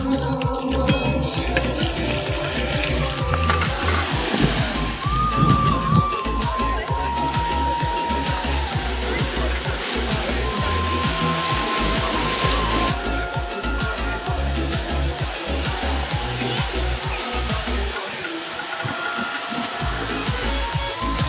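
Rohu fish pieces fry in hot oil in a pan, giving a steady, loud sizzling hiss that continues without pause.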